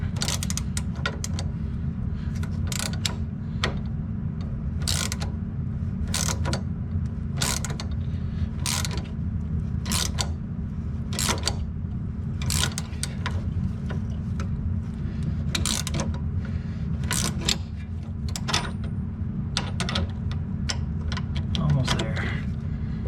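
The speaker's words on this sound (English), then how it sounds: "I got a fancy tool that helps me do these. It's called a through socket." A through socket ratchet tightens AN fuel line fittings on a Porsche 944 in repeated sharp clicking bursts over a steady mechanical hum, close up, spaced across the whole stretch.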